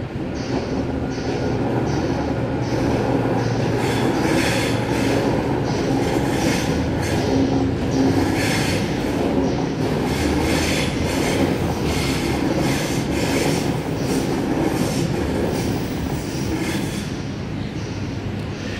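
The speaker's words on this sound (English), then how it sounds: "Hope you enjoy the sights and sounds of the trains." Continuous rumble of a train rolling through Central Station, with rhythmic clacking wheels and occasional high metallic squeals over steady broadband noise; no talking.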